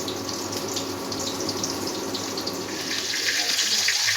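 Kitchen tap water runs steadily and close, a continuous hiss and splash that swells slightly louder toward the end, with a faint voice underneath.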